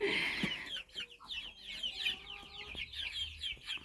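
Chickens and a rooster cluck busily in a new enclosure, a dense run of overlapping clucks and squawks from close by, with a few brief voices of people mixed in.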